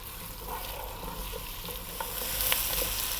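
Garlic fries in a pan for a vegan vegetable stew, giving a steady soft sizzle with scattered light crackles and stirring scrapes, close and continuous with no one talking.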